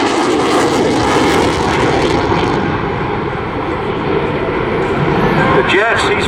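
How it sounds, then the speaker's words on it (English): A Eurofighter Typhoon FGR4 jet displays at an airshow in Southport, its engine roar broad and loud, steady through the pass and then thinning slightly toward the end, with a commentator talking over it. "The jet he's flying is simply extraordinary, amazing, and does the most remarkable things in terms of its operational capability."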